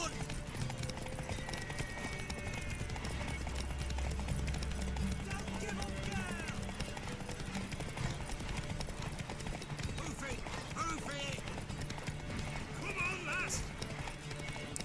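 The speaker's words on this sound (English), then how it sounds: "Hopefully the horse will have enough stamina to finish the race." Galloping horse hooves in a race in the video game The Witcher 3, a quick, steady clip-clop rhythm running throughout under game music and voices, with occasional whinnies.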